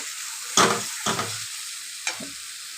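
Dried fish tossed into a pan of frying potatoes with cumin, chili and coriander powder, giving a few sharp sizzling bursts and stirring scrapes, close and fairly loud.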